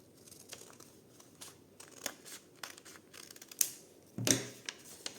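Scissors cutting paper for a junk journal, a close series of quiet snips and paper rustles, ending with a couple of sharper, louder crisp cuts.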